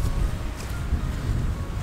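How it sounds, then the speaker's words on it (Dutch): A strong wind by the water buffets the microphone in a constant low roar, with no voices and only a faint rustle beneath the gusts. "Er stond al heel veel wind aan het water."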